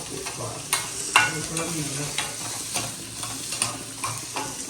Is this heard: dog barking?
no